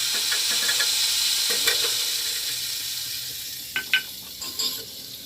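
Asafoetida and cumin sizzle steadily in hot oil in an iron wok, a dense, even hiss that fades a little over time, with a few light clinks of stirring near the end.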